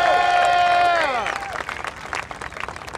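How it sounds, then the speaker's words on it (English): A crowd at a Riders For Health auction and interview event cheers and applauds for MotoGP rider Hector Barbera. Sustained clapping and cheering continue after a bright tonal sound at the start fades out. "Let's have a big cheer for Hector Barbera to wish him well, get him fit and well."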